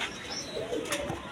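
Domestic pigeons of several breeds at a Bengali bird market coo softly in a short, continuous murmur, with faint chirps and some rustling in the background and no talking.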